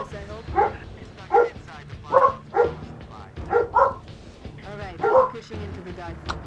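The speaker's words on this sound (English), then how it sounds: "Oh, shut up, dogs. Like, you're barking at nothing." Several dogs bark repeatedly at a moderate distance, sharp yips in an uneven rhythm, with a steady low background hum.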